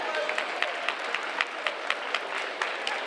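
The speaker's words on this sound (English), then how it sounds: "So give them a big applause." A school audience at an eighth-grade awards ceremony applauds recipients, a steady patter of many hands with distinct louder claps popping out at a fairly regular rhythm, sustained for the whole stretch.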